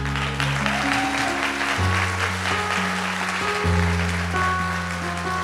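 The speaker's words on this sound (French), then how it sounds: "Est-ce qu'on veut l'applaudir à lui?" Applause from a congregation at a worship and praise evening, a broad clapping wash that runs steadily under sustained keyboard chords and music throughout.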